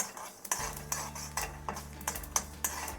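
A utensil stirs egg pulusu, an egg curry, in a pan, with rhythmic scraping and clinking strokes about every half second over a faint low hum.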